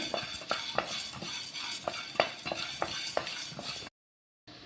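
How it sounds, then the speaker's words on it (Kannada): Whole spices such as cinnamon and cloves dry-roasting for homemade sambar powder, scraped and stirred in a pan with rhythmic close metallic strokes and faint rattling, ending abruptly in silence. "ಚಕ್ಕೆನೂ ಲವಂಗ ಇವಾಗ ಹಾಕ್ಕೊಂಡು ಹುರಿಯೋಣ"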